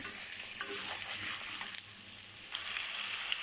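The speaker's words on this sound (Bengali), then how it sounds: "পেঁয়াজ আর মাংসগুলো একসাথে আমি কিছুক্ষণ ভেজে নেব।" Onions and meat fry together in a pan, a steady close sizzle with occasional stirring clatters from a spatula, and no voices.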